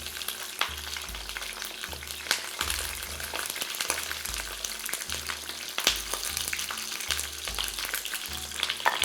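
Peppers frying in a pan on an outdoor stove, a steady loud sizzle and crackle of oil with occasional stirring, alone without voices, over a faint repeating low background tone.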